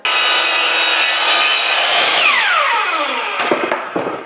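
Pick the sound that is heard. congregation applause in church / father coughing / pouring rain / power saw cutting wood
power saw cutting wood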